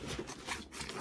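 A chunky number 10 zipper on an Evergoods PLC20 backpack is handled close up, with a continuous rasping, scratchy zip and rub lasting about a second.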